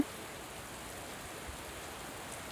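Light rain beginning to fall in a village, a soft, steady hiss of drops pattering on surfaces, faint and even throughout with no voices.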